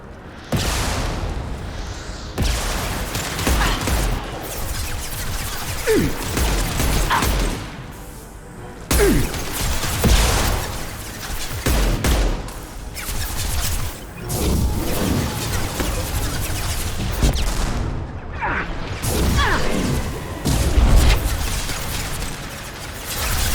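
Combat in the Mass Effect 2 video game, with a concussive shot blast amid continuous gunfire, thuds and whooshing impacts, dense and loud throughout with brief quieter gaps.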